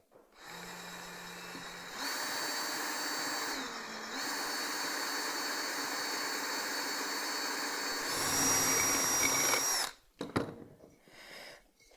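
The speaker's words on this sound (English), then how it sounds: "When you start drilling into a terracotta pot, drill it where the lip is" A power drill whines steadily for several seconds, its pitch shifting slightly as it bites into the lip of a terracotta pot, then cuts off, followed by a few clattering knocks.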